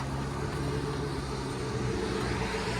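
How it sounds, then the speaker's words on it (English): A 2018 Cadillac Escalade with a 6.2L V8 and Corsa cat-back exhaust, its exhaust giving a steady, loud, low rumbling drone that holds even throughout. "There's the exhaust."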